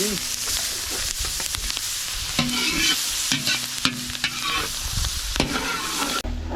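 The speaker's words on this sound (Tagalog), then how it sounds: "Bigisa na po." Onion and garlic sautéing together in butter and oil during preparations for a christening feast, a loud sustained sizzle with repeated stirring clatter and occasional voices in the background.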